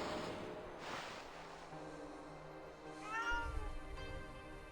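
A cat meows in the video game Okami, a faint drawn-out cry heard amid soft ambient game sound, with a brief rising call near the end.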